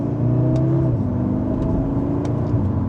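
A 2025 Audi S3 sport sedan in dynamic plus mode pulling away under mild acceleration in second gear, a steady mid-pitched engine drone rising slightly from inside the cabin, with no talking.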